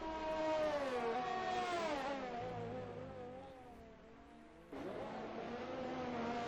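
A Formula race car leaving the pits in a sim race at Mexico, a steady high engine whine that rises and falls through gear changes, loud and close, with no talk.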